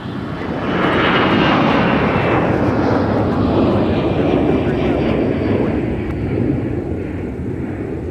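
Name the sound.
Delta airliner taking off at MSP airport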